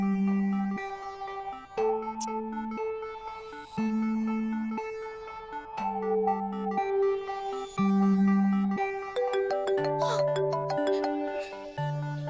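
A melodic ringtone plays alone, repeating a bright chiming tune with a low bass note under each phrase, moderately loud and steady.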